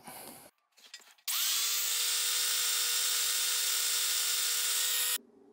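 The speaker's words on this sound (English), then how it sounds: "So I'm gonna try grinding off just the top 1/8 of an inch," A rotary grinder spins up and grinds off the tip of a brazed joint on an alternator-generator build, a loud, steady high whine lasting about four seconds before it stops, preceded by brief handling noises.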